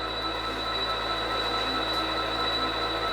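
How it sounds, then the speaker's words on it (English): A model railroad locomotive runs on a switching layout, giving a steady, continuous mechanical hum with a thin high whine. The sound stays constant and close, with no talk over it. "The locomotive's already running over here."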